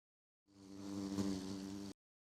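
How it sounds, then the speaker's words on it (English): Ender bees buzzing in Minecraft (ATM10 modpack): a steady, droning insect hum that starts abruptly, holds level for about a second and a half, then cuts off cleanly, close and alone. "I guess we should also grab ender bees while we're here."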